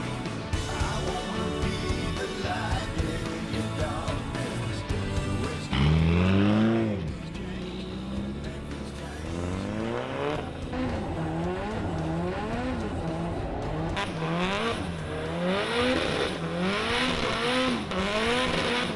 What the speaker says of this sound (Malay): Pasti penonton nak tahu macam mana pengalaman menaiki kereta drift